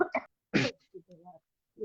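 A woman lecturing an in-person class gives a short, light cough, a quick burst of two or three throaty bursts followed by a soft voiced sound, close and fairly quiet.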